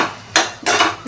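Pestle strikes in a stone mortar while grinding ingredients for a gourd (sorakaya) dish, three sharp, loud broadband thuds spaced unevenly across a second, with quiet gaps between.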